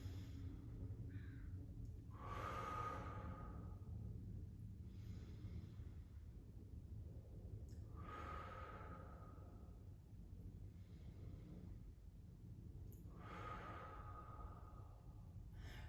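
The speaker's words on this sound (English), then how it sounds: "We're taking the breath out of that shallow chest and bringing it deeper into the rib cage, into where the lungs actually are." Slow, deep diaphragmatic breaths during a beginner Pilates breathing exercise, three long airy inhales or exhales spaced several seconds apart over a steady low room hum, close and fairly soft.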